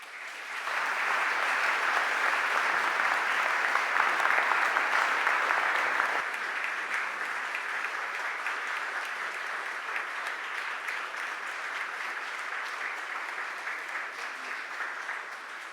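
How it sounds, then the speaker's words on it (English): Applause fills a Philadelphia City Council chamber during a stated meeting, a dense sustained clapping from a roomful of people that starts strong, eases slightly partway through and carries on steadily to the end. "Can we give her a round of applause?"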